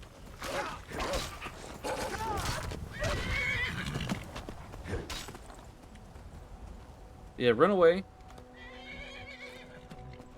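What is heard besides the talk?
horse neighing in a video game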